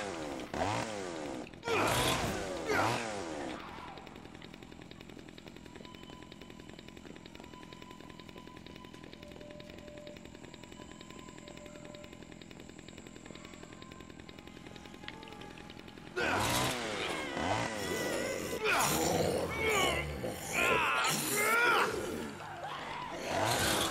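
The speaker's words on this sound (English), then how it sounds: "Chainsaw." A chainsaw in the video game Dead Rising 4 buzzes steadily for a long stretch in the middle, fairly quiet and continuous, with speech before and after it.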